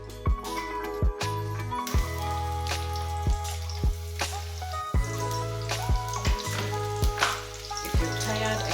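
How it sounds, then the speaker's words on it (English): Onion sizzles in a saucepan for vegetable rice, giving a steady frying hiss with crackles. A series of sharp clinks and taps from utensils on the pan sounds at intervals over it. "On the saucepan for vegetable rice, we're going to add in our onion."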